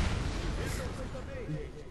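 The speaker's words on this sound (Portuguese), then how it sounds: "Explodiu lá em algum lugar ali" A booming explosion in the video game Dead Rising 3 rolls through the game mix while players talk over it continuously.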